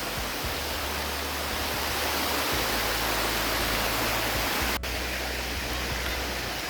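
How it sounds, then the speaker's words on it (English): A waterfall at Salt Springs, Pennsylvania rushes in a steady, dense roar heard up close from the top of the falls, with a low rumble underneath and one brief sharp click partway through. "This is the view from the top of the waterfall."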